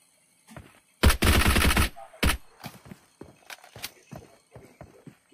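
Gunshots in a battle royale shooter match: a sharp, loud burst of automatic fire, then a short second burst, followed by quieter scattered pops and footstep-like taps in an otherwise hushed scene.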